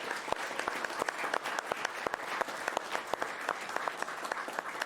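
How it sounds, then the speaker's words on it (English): A modest crowd at the RPGLB 2022 speedrunning charity event finale claps in a sparse, uneven round of applause, individual hand claps standing out distinctly over a quieter room. "So let's give everybody a round of applause."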